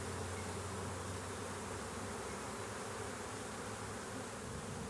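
Honeybees packed densely in a crowded hive on a warm, sunny day hum in a steady, close, continuous drone that stays even from start to finish, with no voices over it.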